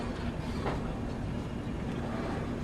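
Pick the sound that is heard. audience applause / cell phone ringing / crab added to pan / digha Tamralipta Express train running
digha Tamralipta Express train running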